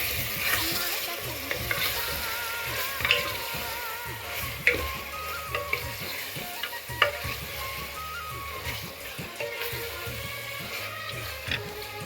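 Chicken curry, cooked Telangana style, is stirred in a pan over a steady sizzle, with repeated scraping strokes and spoon clinks close up and no talking.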